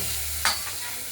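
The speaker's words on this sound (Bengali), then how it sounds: "এবার আমরা ফোড়ন দেব" Whole spices tempering in hot oil after fish frying, a brief burst of crackling sizzle that rises suddenly and fades over a steady background hiss, close by.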